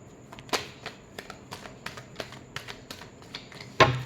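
Tarot cards being shuffled by hand, a run of quick soft riffling taps and flicks, fairly close and quiet, ending with a sharper card snap.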